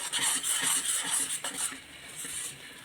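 A utensil scrapes and clinks against a pan while pepper prawns masala cooks, in a soft rhythmic series of stirring strokes over a light sizzle.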